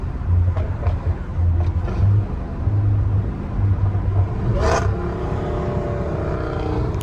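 Dodge Hellcat Redeye with M4 and M3 competition exhausts giving a deep rumbling idle with several short revs, loud and close, fading to a steady drone.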